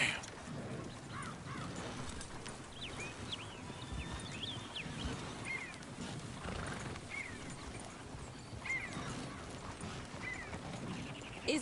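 Horses in a PS4 video game, steady clip-clop of hooves with repeated neighs and whinnies over continuous ambient noise, birds cawing faintly in the background.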